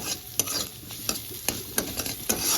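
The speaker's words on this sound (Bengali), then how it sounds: "ক্যাপসিকাম দিয়ে পেঁয়াজ ডিম একসঙ্গে মিশিয়ে নিচ্ছি।" Capsicum, onion and fried egg are stir-fried together in a pan. A spatula scrapes and taps in a rapid, uneven rhythm over a constant close sizzle, with no one speaking.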